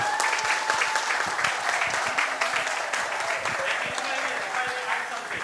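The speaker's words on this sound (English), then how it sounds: "a big round of applause for Shastriji" Crowd at the grand opening of the Oxford Hindu Mandir and Community Centre applauds Shastriji: dense, steady clapping from many people, sustained at an even level with faint voices and cheers mixed in.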